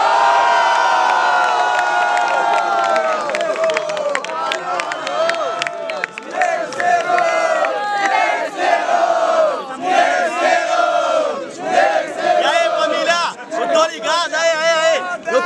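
A large crowd at a rap battle final roars, cheers and shouts continuously, loud and close, with excited voices yelling throughout in a dense, surging wall of noise.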